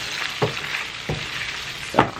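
Potatoes fry in oil in a pan at home, a continuous hiss of sizzling punctuated by three sharp scraping stirs spread evenly through the short stretch, close by and with no speech.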